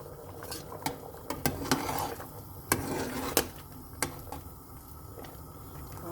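A pot of oxtail and black beans on the stove, with a steady bubbling hiss under sharp metallic clinks and knocks of a utensil against the pot, close by with no talk.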